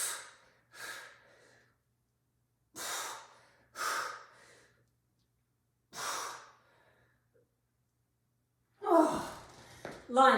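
Heavy, effortful breaths during a TRX suspension-training workout come in a slow series of loud exhales with pauses between them, very close, ending in a rougher gasping breath.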